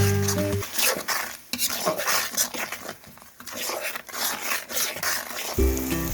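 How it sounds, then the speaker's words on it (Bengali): Ground chilli, turmeric and salt stirred and frying in a pan: repeated scraping and clinking of a spatula against the metal pan over a soft sizzle, fairly quiet and close, with no talking. "এখন কিছু গুঁড়ো মশলা দিয়ে দেবো। এখানে আছে মরিচ, হলুদ, লবণ, দিয়ে আরও কিছুক্ষণ ভালোভাবে নাড়াচাড়া করে কষে নেব।"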